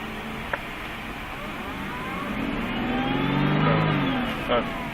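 An Aston Martin V8 Vantage at the Circuit de Lyon moves off in reverse, its engine humming steadily up close and rising slightly in pitch as it creeps backward, with a couple of brief clicks and no talk.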